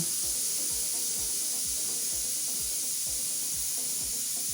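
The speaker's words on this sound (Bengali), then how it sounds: "সব কিছুকে একসাথে একটু বাদামি করে ভেজে নেব।" Crushed garlic and chopped onion frying in a pan give a steady, bright sizzling hiss, accompanied by a regular run of soft low thumps beneath it.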